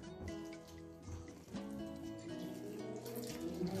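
Lukewarm water pours steadily into a bowl of baker's yeast for pizza dough, a soft continuous trickle close by and fairly quiet.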